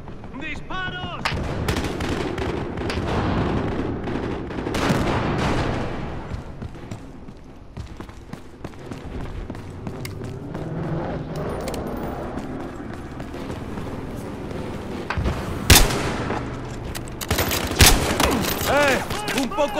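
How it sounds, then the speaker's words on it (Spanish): Gunfire rattles through a Battlefield Hardline online conquest match, with dense bursts and single shots, some near and loud and others farther off, and voices calling out over the fighting. "¡Disparos!"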